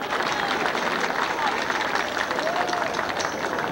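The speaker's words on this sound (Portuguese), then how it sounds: "Aí está chegando Joel da Silva, uma salva de palmas." A crowd at a municipal election campaign rally greets a city council candidate with dense, steady applause and cheering that holds at full level throughout, with a few faint whistle-like tones rising above the noise.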